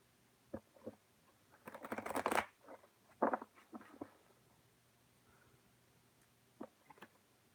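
Quiet tarot card shuffling close by: a short riffle burst and several soft flicks and taps, with stretches of near silence between.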